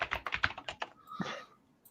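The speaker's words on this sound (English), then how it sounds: "You're typing in the chat in there." Quick, light clicks of keys being tapped on a computer keyboard, a short irregular burst of typing heard close and fairly quiet.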